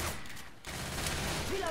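Weapon reloading in Left 4 Dead 2, heard as a continuous stretch of gunfire-like mechanical clatter and noisy game ambience with a brief dip partway through and a short tonal squeal near the end.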